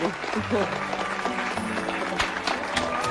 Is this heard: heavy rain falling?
no